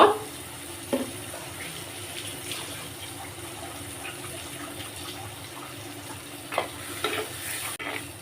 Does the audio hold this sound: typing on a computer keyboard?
no